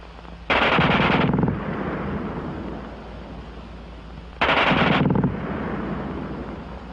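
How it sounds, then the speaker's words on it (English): German machine gun firing in two long, very fast bursts, loud and close, with echoing rumble trailing after each burst. "the German gun fires faster than anything you've run into before"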